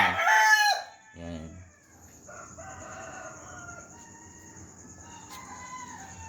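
Rooster crowing loudly up close at the start, followed by chickens and chicks clucking and peeping softly in a farm yard.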